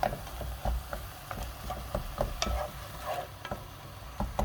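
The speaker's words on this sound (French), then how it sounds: "On mélange bien." Steady scraping and stirring in a pan over a soft sizzle, with repeated utensil taps and clicks against the metal.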